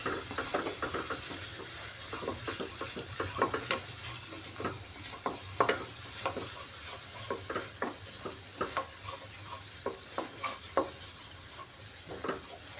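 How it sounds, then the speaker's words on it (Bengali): Spoon stirring spice paste with gram flour frying in a pan for an egg curry with ridge gourd, with steady sizzling and repeated scraping clicks and knocks against the pan, close and continuous. "বেসনটা দিয়েও একটু নাড়াচাড়া করে নেব।"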